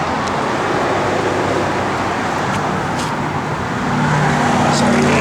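A 1970 Plymouth Cuda rolls down the road with a constant engine rumble mixed with tire and wind roar, the note thickening and growing slightly louder in the last second, with faint talk beneath.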